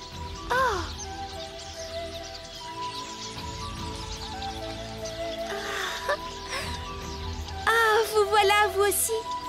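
Crows cawing in an animated Pocahontas cartoon: several harsh caws, one early and a busier cluster near the end, over background music while a voice speaks.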